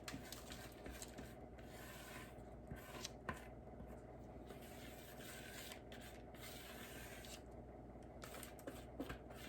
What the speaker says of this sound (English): Using your spatula, spread into a nice even layer.